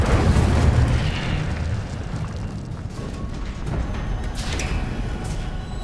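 In the video game Hogwarts Legacy, spell blasts erupt into a heavy, rolling explosion that is loudest at the start, then settles into a sustained crackling rumble with a few faint bursts above it.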